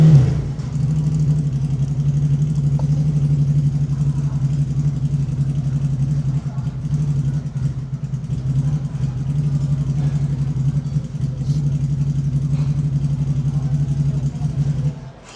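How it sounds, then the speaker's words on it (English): A car engine with a fault drones low and steady for the whole stretch, an unbroken mid-pitched hum at moderate loudness that swells slightly now and then before dropping away at the end. "There's a problem with the engine."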